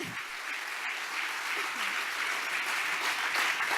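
A church congregation applauds loudly and steadily during a sermon, a dense crowd of clapping hands sustained throughout with no speech over it.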